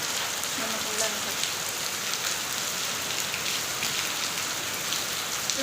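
Heavy rain pouring down, a steady dense patter of drops hitting surfaces, with a brief faint voice early on beneath the constant downpour.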